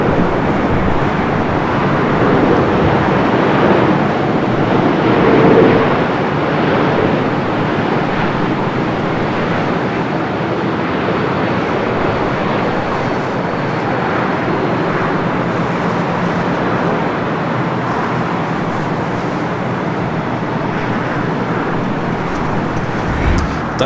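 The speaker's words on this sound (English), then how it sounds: "this is Flight 38 to 787-10 and Dreamliner coming up from Tokyo, Haneda." A Boeing 787-10 Dreamliner arriving from Tokyo Haneda at LAX produces a broad, steady jet roar that stays loud and even for the whole stretch, with no distinct voices over it.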